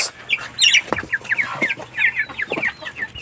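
Day-old and week-old chicks, Rhode Island Red mixed with black native chicks, peeping in rapid, high chirps close by, a busy overlapping chorus with a few soft lower clucks.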